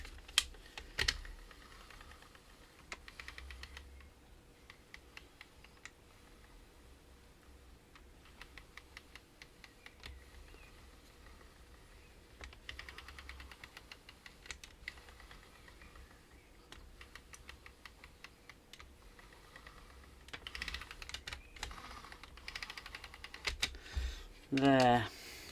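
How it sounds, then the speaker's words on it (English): An Original Xbox Crystal Edition with a stuck disc tray gives off a run of quiet, irregular mechanical clicks and ticks against a low hum, with brief louder bursts near the end. "There's something clicking here."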